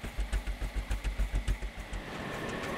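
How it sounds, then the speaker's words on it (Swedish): A vehicle engine in the Scrap Mechanic video game over-revs, pulsing in a rapid, even throb of about a dozen beats before settling into a steady, higher drone, moderately loud and alone. "den överrustar motorn"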